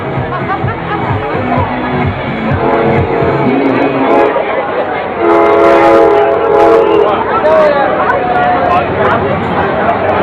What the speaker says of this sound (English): There's a train going by in the background there.